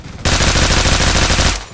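A Honey Badger rifle fires in a video game: one loud, close burst of rapid automatic shots, evenly spaced, lasting just over a second before cutting off abruptly.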